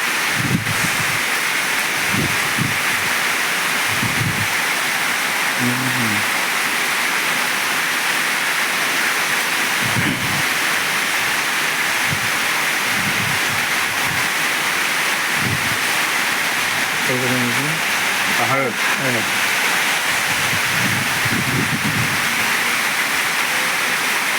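Heavy evening rain falls steadily outdoors in a farm setting as dusk sets in, a constant broadband hiss throughout, with scattered faint knocks and brief clatters.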